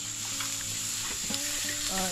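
Rat meat and a chicken head cook in a stew pot at a border forest camp, giving a steady sizzling, bubbling sound with light stirring and scraping.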